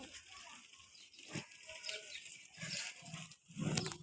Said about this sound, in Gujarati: બહાર ખેટા બકરા જાય છે।